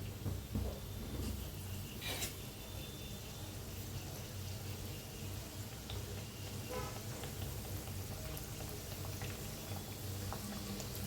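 Karanji pastries deep-frying in hot oil over a medium flame, giving a steady, dense bubbling and crackling that continues evenly throughout with no voices.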